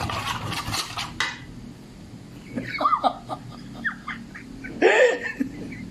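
Chicken breast fillet stirred in a bowl with cornstarch and salt for tempura, a spoon scraping and clinking against the bowl in short irregular bursts, with one louder clatter near the end.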